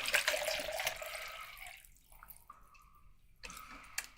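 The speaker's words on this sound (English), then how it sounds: "So there's one of my cups of water." Water pours and splashes into a cup, a loud gush at first that thins to trickling and a few drips, and no one speaks.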